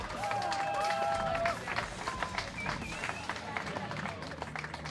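Audience at the Red Bull Ring applauding women racing drivers being honored, continuous dense clapping with a voice talking over it at times.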